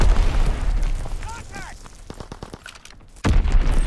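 Mortar rounds and an Azon bomb strike in Call of Duty: WWII on the Ardennes Forest map during a hardcore team deathmatch: descending whistles, scattered crackling blasts, then a loud, close boom near the end.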